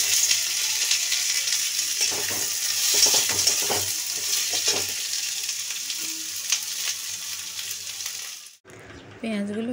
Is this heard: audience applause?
no